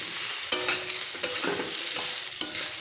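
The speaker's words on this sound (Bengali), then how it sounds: "এখন এই লবণ আর হলুদ গুঁড়োর সঙ্গে কাঁকরোলগুলো নেড়ে চেড়ে ভালোভাবে মিশিয়ে নেব" Spiny gourd (kakrol) frying with salt and turmeric sizzles steadily in the pan, broken by three distinct scraping stirs of a spoon, close and clear with no talk.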